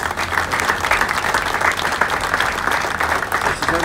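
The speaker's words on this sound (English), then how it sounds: "This is everybody's clapping." A crowd at a Seattle event honouring construction workers applauds steadily and evenly throughout, a sustained wash of clapping with no voices rising above it.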